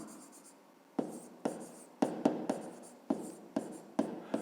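Pen or pencil writing out a grade 5 maths exercise on paper, a quiet series of scratchy strokes with sharp starts, about ten in irregular rhythm.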